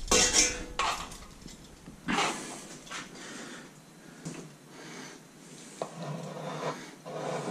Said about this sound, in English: Jon Favreau in Chef plates this with a fork